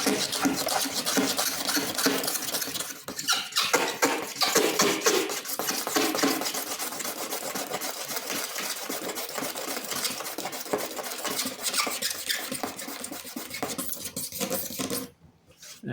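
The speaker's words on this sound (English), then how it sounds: "holding the blade 90 degrees to the surface and scraping back and forth" A blade held upright scrapes rubber buildup off kart plastics in quick back-and-forth strokes, a dense rasping scratch that runs continuously and close up before stopping abruptly near the end.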